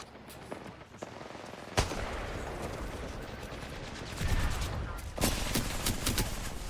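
Gunfire in a shooter video game rattles in dense, continuous bursts with a few sharper single cracks, loud and close throughout.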